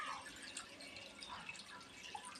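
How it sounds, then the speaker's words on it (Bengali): Water trickling and dripping into a nonstick pan holding washed mangoes, quiet splashes and drips scattered over a soft background, with no talking. "এবার আমি এখানে জল দিয়ে দিচ্ছি।"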